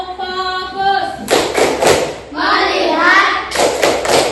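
A school class performing a rhythmic clapping chant, with children's voices chanting between loud bursts of group clapping and thumping, close and energetic, as sung phrases alternate with clusters of claps.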